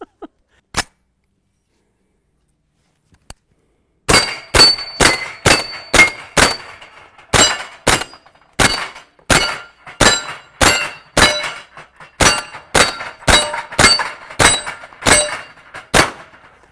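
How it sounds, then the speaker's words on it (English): Pistol shots ring off steel target plates in a rapid, steady string of about two dozen loud cracks, each followed by a metallic clang. The string comes after a near-silent stretch holding a couple of isolated clicks. "You got to hit these plates high or they don't go down even with 40."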